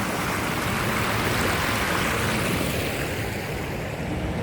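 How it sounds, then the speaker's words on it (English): Small waterfall in a park, a steady broadband rush of falling water that holds even and continuous throughout, fairly close, with no voices over it. "you got cool, nice little water, where the water falls off right there"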